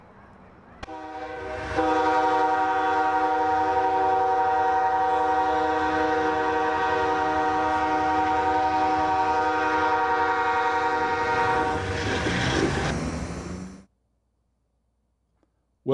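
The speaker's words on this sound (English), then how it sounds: "I hope you get to be on an Amtrak train." An Amtrak train sounds a long, loud, steady multi-tone horn blast lasting about twelve seconds over rumbling rail noise, then cuts off into silence.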